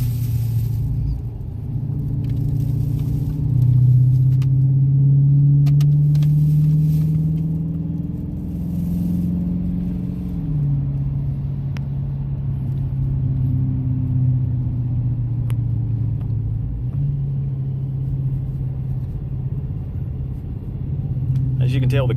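A Dodge Challenger R/T pulls hard from a standstill toward 60 mph, its engine droning low and loud, rising through gears with shifts at steady intervals, heard from inside the car with a person talking over it.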